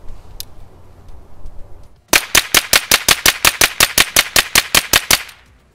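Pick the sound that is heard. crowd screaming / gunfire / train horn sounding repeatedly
gunfire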